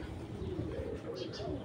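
A large-headed female full dobas pigeon coos in soft, low, throaty rolls close by, with faint voices murmuring underneath.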